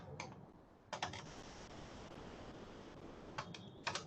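Computer keyboard keys tapped in short bursts while code is entered, a few quick clusters of clicks separated by pauses, close and fairly quiet over a steady background hiss.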